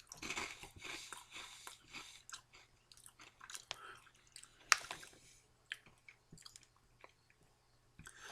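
Close, soft crunching and chewing of Calbee wasabi ranch snap pea crisps, with irregular bites and crackles spread across several quiet seconds.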